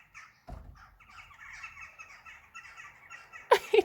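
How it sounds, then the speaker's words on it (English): Crows cawing outdoors on a rooftop, a run of harsh overlapping caws at moderate distance, with a louder, closer burst of calls near the end. "That's the crows, as I'm talking about ominous things."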